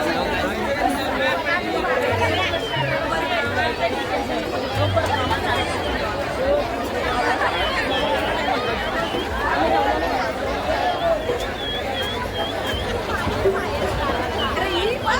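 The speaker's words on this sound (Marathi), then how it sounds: "भरपूर गर्दी आहे." Dense crowd chatter at the Mahalakshmi temple fair in Dahanu, a steady continuous babble of many voices close around, with occasional nearer voices standing out.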